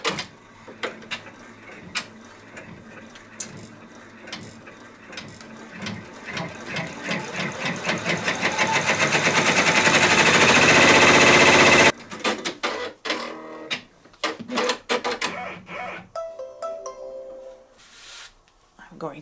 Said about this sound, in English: It's going to stitch the fabric down.